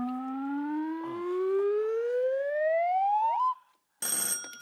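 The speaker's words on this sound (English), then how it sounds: "Fingers on the buzzers, teams." A panel quiz show buzzer on a British comedy news program sounds as a long rising siren-like wail that climbs steadily for several seconds, cuts off, then a short bright electronic jingle follows. Loud and alone, with no talking.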